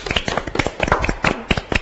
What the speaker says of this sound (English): Give yourselves an applause.